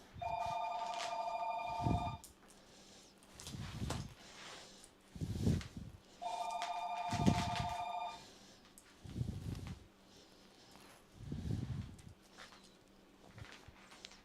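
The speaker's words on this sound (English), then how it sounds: "Humans let that phone ring until the damn thing picks up." A telephone rings in two long electronic trills spaced several seconds apart, fairly near, with thumping handling noises and quiet background sounds between the rings.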